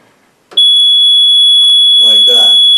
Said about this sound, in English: If this comes in contact with any water whatsoever on the floor, it'll sound off the alarm.